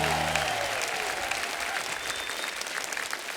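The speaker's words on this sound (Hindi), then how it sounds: "जोरदार तालियां हो जाए हमारे सुपरस्टार आरजेस के लिए।" Loud audience applause on a comedy show stage for radio jockeys, dense sustained clapping from a large crowd right after a voice stops, with faint music beneath.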